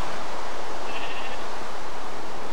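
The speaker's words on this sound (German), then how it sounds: "Hühner, Schafe." A sheep in the Minecraft video game gives a brief bleat, partly buried in a constant loud hiss.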